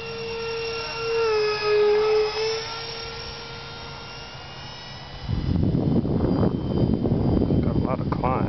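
A 55mm EDF Mirage 2000 model jet flies overhead outdoors, its electric ducted fan whining with shifting pitch, then a rougher broadband rush swells as it passes closer.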